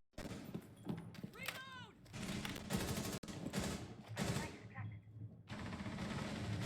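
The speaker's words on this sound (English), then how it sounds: "There was some gunfire there, but didn't quite connect with anyone." Bursts of gunfire crack and rattle during a competitive college Rainbow Six Siege match, several rapid volleys spread across the moment amid other game noise, with a commentator speaking over parts.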